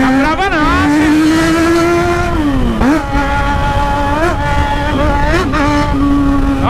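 Yamaha XJ6 motorcycle engine revving hard, its pitch sweeping up and dropping back in repeated throttle blips, loud and close, with a voice talking over parts of it.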